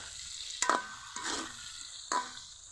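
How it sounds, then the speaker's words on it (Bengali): Prawns seasoned with salt and turmeric sauté in a pan for a brinjal and prawn dish, giving a steady soft sizzle broken by three sharp scraping stirs. "আলাদা করে চিংড়ি মাছ ভাজার কোনো দরকার হবে না,"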